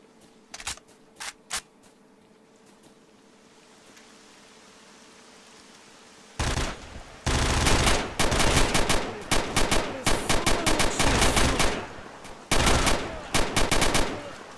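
Gunfire in STALKER: Shadow of Chernobyl, a few isolated sharp shots first, then after a pause sustained loud bursts of automatic fire in rapid clusters.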